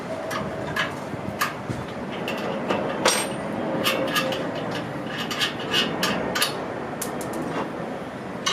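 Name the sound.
wrench removing nuts from Predator engine muffler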